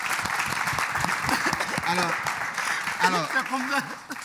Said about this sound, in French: on va applaudir pour lui